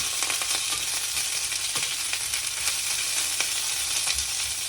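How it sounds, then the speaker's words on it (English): Onions sauté in a pan for a dosa chutney, giving a steady bright sizzle close by with scattered scraping taps of a stirring spoon and no talk. "onions as well. Again, saute it well."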